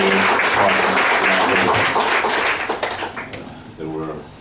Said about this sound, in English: just clap your hands in celebration of the Durae senior partner